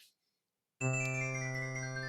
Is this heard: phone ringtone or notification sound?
yes